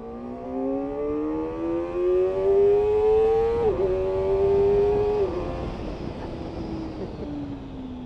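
A Kawasaki ZX-4RR motorcycle engine screams as it revs hard in second gear, pitch climbing steadily, dipping briefly at a shift, then rising again before easing off, loud and close from the rider's position.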